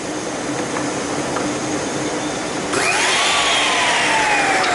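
A drop saw runs at a steady high whine, then near the end its pitch jumps and drops off as the blade bites into timber, loud and close with nobody talking.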